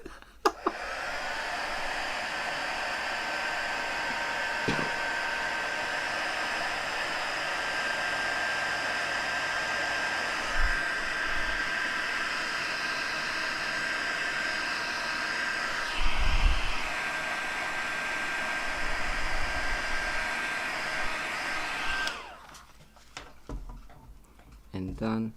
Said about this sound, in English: cover your ears. Not because I'm singing, but I'll be doing the heat embossing